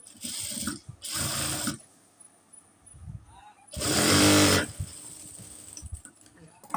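Sewing machine stitching the seams of a nighty frock, heard as two short loud bursts early on and a longer burst midway, with quiet handling sounds in between.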